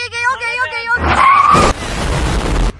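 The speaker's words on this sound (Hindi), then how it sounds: "मम्मा ने इतनी जोर से ब्रेक दबाई" A family car braking hard with a sharp tire squeal and broad skidding rush lasting over a second, loud and close, right after excited voices inside the car.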